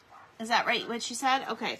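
A female dog barking indoors, a few quick high yips and woofs close by, with a person speaking over them.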